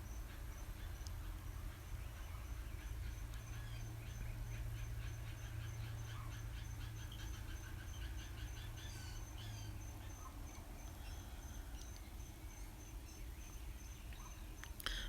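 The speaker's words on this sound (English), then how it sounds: "Listen to the birds." Birds chirp and call in the distance at sunrise over a constant buzz of insects and a low steady hum, with no one speaking.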